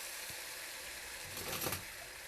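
Pureed onion, garlic and jalapeno hitting a hot pan, a steady hissing sizzle that swells briefly midway, faint overall.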